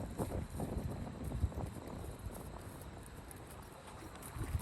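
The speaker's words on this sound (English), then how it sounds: "there's much more swing through the trot" A young, unbalanced, unbroken horse trots on long reins, its hoofbeats landing in a steady, swinging rhythm amid broadband outdoor noise and light wind, fairly close and continuous.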